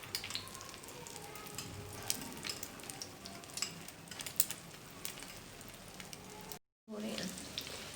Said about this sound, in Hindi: हमने कबाब फ्राई करने के लिए रख दिए हैं, ये फ्राई हो रहे हैं।